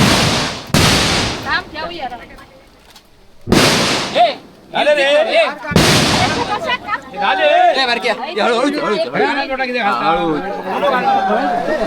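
Several sharp firecracker bangs burst out near the start, loud and close, followed by a lively crowd chattering and calling out at a Ganesh immersion procession.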